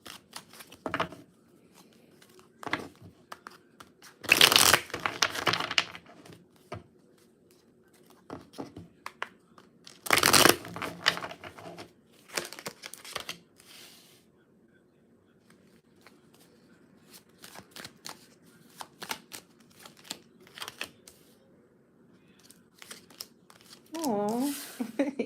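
Tarot-style cards shuffled and drawn during a live card reading, heard as two loud bursts of riffling and slapping with scattered softer handling noises between, while a voice talks over parts of it.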